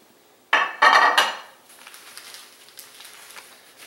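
Seafood Newburg is spooned into a bowl with kitchen utensils, giving a few sharp metallic clanks and scrapes in quick succession, followed by softer, faint clatter.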